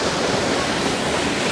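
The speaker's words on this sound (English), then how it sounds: "A bit of a waterfall." A forest waterfall in a park, pouring as a loud, steady broadband rush of water with no breaks and no voices.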